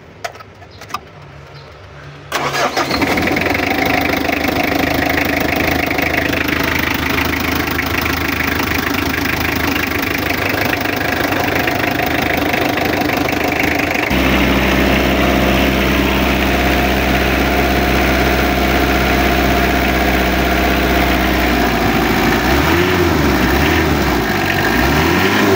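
A Mitsubishi L300 engine with a newly fitted timing belt cranks and catches after a short quiet moment, then settles into a loud, steady close idle that shifts in pitch as it runs.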